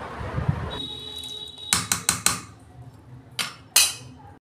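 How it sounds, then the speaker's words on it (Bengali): A metal wok is set down on the stove while cooking ghugni: a cluster of sharp metallic clanks and knocks, several quick strikes in a row followed by two more after a short pause, fairly close and alone. "কড়া বসিয়ে দিয়েছি বন্ধুরা"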